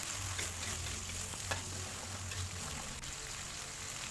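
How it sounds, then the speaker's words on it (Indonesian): Blended spice paste sizzles and fries steadily in a hot pan while being stirred for nasi kuning, a continuous close hiss with occasional scrape-like stirring touches and no talking. "Bumbu yang udah kita blender tadi kita tuang, kita masak, kita tumis."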